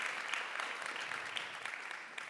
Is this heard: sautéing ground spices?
no